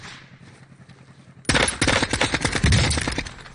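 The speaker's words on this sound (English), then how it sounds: "He's AN94 in action." An AN-94 rifle fires in Call of Duty on Rebirth Island. After a quieter lead-in, a rapid, loud stream of shots begins partway through and keeps going steadily.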